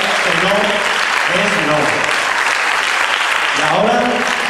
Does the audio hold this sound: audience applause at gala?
yes